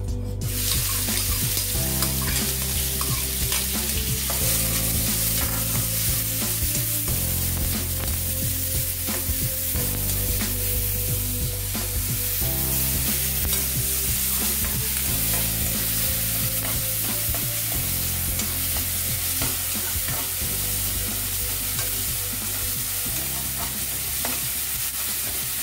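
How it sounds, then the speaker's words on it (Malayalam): Onions, shallots and green chillies fry in a little oil in a pan, a steady close sizzle with repeated stirring scrapes throughout, no talk. "സവാള നന്നായി വറുക്കണം."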